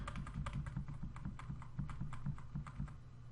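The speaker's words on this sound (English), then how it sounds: "using your arrow keys," Rapid, regular clicking of computer arrow keys pressed over and over, close and quiet, with no voices.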